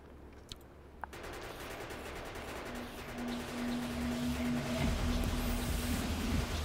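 Rapid bursts of gun turret fire in the video game Factorio crackle over a low rumbling drone, with a couple of sharp isolated shots early on before the firing thickens and grows louder.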